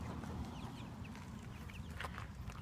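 Backyard hens clucking softly and steadily over a low rumbling background, with a few brief higher calls rising near the end; no talk.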